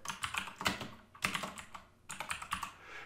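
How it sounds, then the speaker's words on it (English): Someone types on a computer keyboard in three quick bursts of close, crisp key clicks separated by short pauses, with no voices. "Or if it's a new tag, I just type it in."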